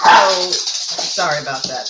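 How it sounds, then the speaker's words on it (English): Rico, a little Shih Tzu, gives a short yelp near a microphone as someone talks over and around it during a podcast conversation. "that's Rico, my little Shih Tzu"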